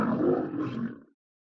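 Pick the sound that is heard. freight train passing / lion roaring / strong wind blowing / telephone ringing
lion roaring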